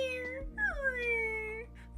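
A voice imitates a cat's sad, drawn-out meows, a few plaintive gliding mews in quick succession, close and clear.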